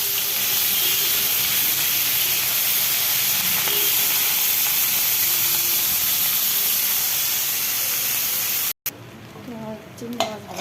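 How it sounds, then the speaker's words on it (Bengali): Fish frying in a pan, a steady loud sizzle and hiss of hot oil that cuts off abruptly near the end, leaving quieter kitchen clatter. "মাছগুলো ভাজি।"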